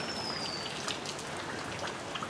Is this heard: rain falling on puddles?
yes